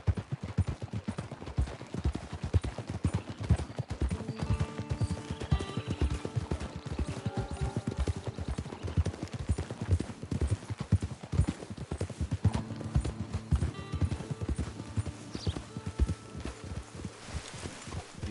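Horse hooves clip-clop steadily in Red Dead Redemption 2, a continuous rhythmic gait close by with faint background rumble throughout.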